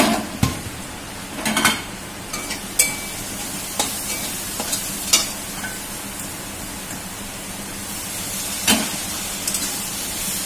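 Boiled banana flower stirred into frying spices in a pan gives a steady sizzle, broken by several sharp clacks and scrapes of a utensil against the pan, close and without talk.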